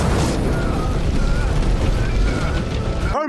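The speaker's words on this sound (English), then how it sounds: "Then there was an explosion on the 5th floor." A loud, rumbling explosion on the fifth floor of a building, a sustained roaring blast that fills the whole moment before cutting off abruptly.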